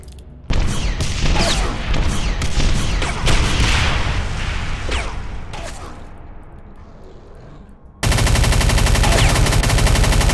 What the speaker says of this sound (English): Who is shooting me with the little PP gun?